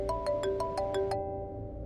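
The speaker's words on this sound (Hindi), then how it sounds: "इसका फोन बज रहा है।" A mobile phone ringtone plays a repeating melodic pattern of short tonal notes, steady and fairly close, then stops near the end; no one speaks.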